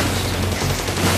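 Dense, booming mortar and gun fire in the Infamous 2 video game, a loud continuous rumbling barrage with no pauses.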